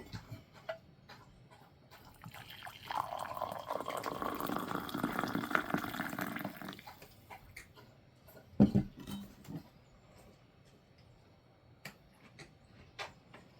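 Hot coffee from beans soaked that morning is poured into a cup, a steady liquid stream of about four seconds, close and fairly quiet, followed by a brief clink and a few light knocks in a calm home.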